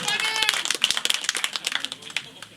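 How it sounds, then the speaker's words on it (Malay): A crowd claps at a live concert in Warisan Hall Studio, Sijangkang: scattered, close, fairly loud claps that come thick at first and thin out, with people talking over them. "beri tepukan boleh"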